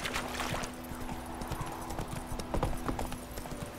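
In The Witcher 3: Wild Hunt, a horse's hooves clip-clop at a steady gait along a road, close and clear, with faint ambient game sounds behind them.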